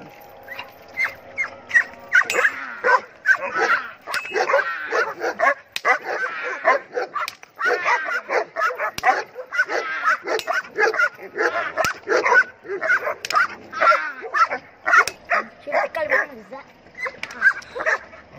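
Dog barking and whimpering in rapid repeated yips and bow-wows, loud and close, continuing steadily throughout with brief pauses between bursts.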